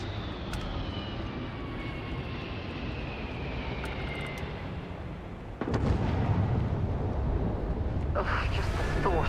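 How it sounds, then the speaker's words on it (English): A spaceship in the Starfield video game lands with a steady low engine roar and a falling whine, and the rumble swells louder partway through as touchdown thrusters blast. "I was watching this ship land."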